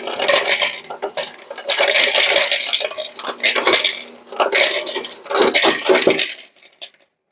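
Hard, clattering clinks come in several bursts as ice cubes tumble into a bowl, loud and close, then stop abruptly near the end.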